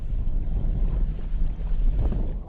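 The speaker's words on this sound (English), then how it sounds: "Dudek heading out from a harbour in Poland, using his body to control a large sail being whipped around by the wind" A windsurfing sail is whipped by strong wind as the board heads out from a harbour in Poland, a low, rumbling gusty roar with buffeting wind noise on the microphone and no voices.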